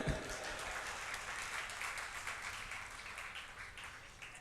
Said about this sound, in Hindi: एक बार अपने लिए ताली बजा लो